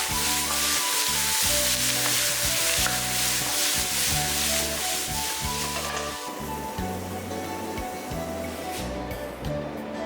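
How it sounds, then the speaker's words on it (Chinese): French fries stir-fried with beef, potatoes and coriander: a loud, continuous sizzle with scraping stir strokes carries on steadily over low, rhythmic background tones. "翻炒均匀， 炒个10几秒，把香菜放进去，再炒一下就可以出锅啦"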